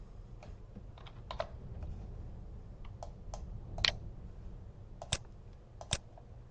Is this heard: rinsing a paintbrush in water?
no